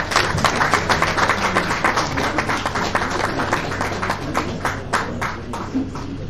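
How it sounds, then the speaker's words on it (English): An audience applauds at a live university ceremony in Lagos marking a memorandum signing between UNILAG and the University of Birmingham. The clapping is dense and sustained, with individual sharp claps standing out from the steady crowd throughout. "Please give me a round of applause, please."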